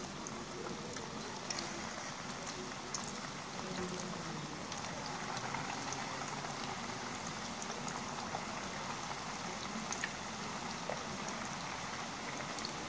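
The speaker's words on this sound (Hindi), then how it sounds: "अब हम फ्राई करेंगे मीडियम फ्लेम पर।" Chicken kababs fry in oil over a medium flame with a steady, even sizzle that fizzes without a break throughout.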